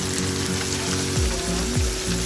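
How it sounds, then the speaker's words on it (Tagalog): Beef pieces for garlic pepper beef fry in a pan, slightly catching and burning, with a dense steady sizzle and a couple of scraping stirs; a low hum sits under it, and no one talks. "Haluin muna natin to kasi medyo nasusunog."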